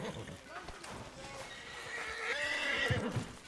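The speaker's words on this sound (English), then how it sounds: "God, what is wrong with that horse?" A horse in Red Dead Redemption 2 whinnies loudly and shakily over hoof clip-clops, the neigh rising and wavering before fading.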